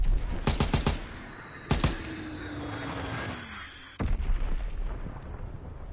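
PPSh submachine gun fire in Call of Duty WW2, a rapid burst of sharp close shots followed by a second short burst and a loud bang amid battlefield rumble.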